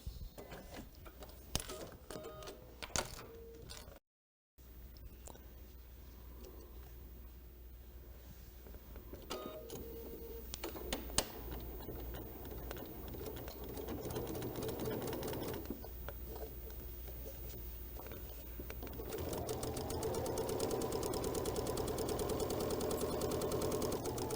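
A sewing machine stitches around a soft pom-pom trim in a quilting project, giving a quiet, steady mechanical whir with intermittent clicks and a brief pause, growing louder and denser toward the end; no talking.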